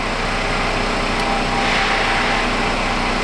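A car engine idles steadily while warming up after a fuel-system repair, a constant close, even hum with no revving or talk over it.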